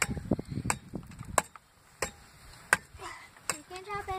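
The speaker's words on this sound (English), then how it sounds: "Freaking chopping me some wood." Several sharp axe chops ring out one after another at irregular intervals, with brief low vocal sounds near the start.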